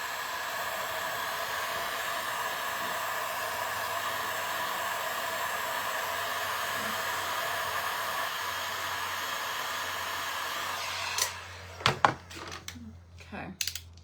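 WoodUBend trim is warmed with a heat tool, heard as a steady, close, even airflow roar for about eleven seconds, followed by a few sharp clicks and knocks as the tool is shut off and set down.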